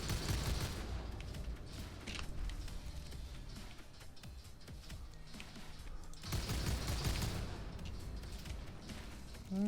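Pistol fire in the FPS roguelike Soulslinger: Envoy of Death, with rapid bursts of shots in two dense clusters separated by a quieter stretch, moderately loud with no talk.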